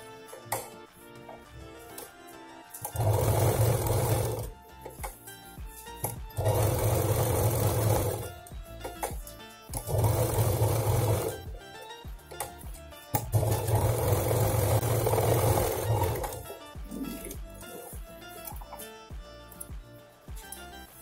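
A sewing machine stitches the inner pocket of a handbag in four loud bursts of rapid, even whirring, with quieter gaps between runs that carry handling noises.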